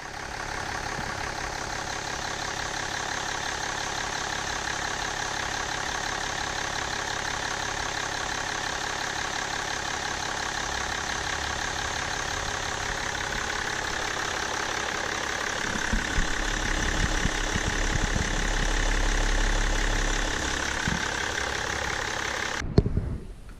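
A BMW 525d diesel engine idles steadily while warming up, a constant close mechanical hum with faint knock that holds even throughout, swelling slightly toward the end before a brief clunk.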